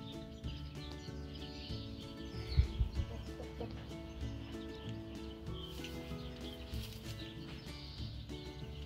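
Hens on a farm cluck softly in a quiet, low-level scene, with a brief flutter or scuffle of wings midway and scattered faint bird sounds throughout.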